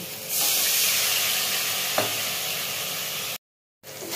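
Chili powder, cumin, chopped tomato and a splash of water sautéing in a pan give a loud, steady sizzle that runs for several seconds, with a brief sharper hiss near the middle before it cuts out.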